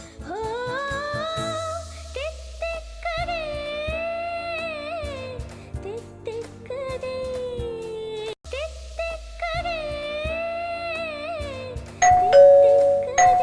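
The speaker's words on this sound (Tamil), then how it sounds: "யார் அது இந்த நேரத்துல காலிங் பெல் அடிக்கிறது?" A doorbell chimes with a sustained ding-dong melody, repeating twice, with a brighter tone sounding near the end.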